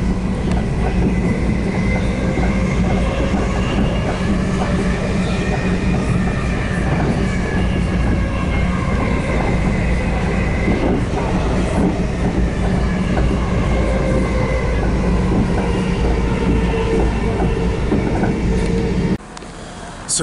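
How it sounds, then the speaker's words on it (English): A train rolls steadily past close by, with continuous loud rumble and rail clatter throughout a UK railway station platform, ending with a brief drop near the end. "So, waiting for the train now."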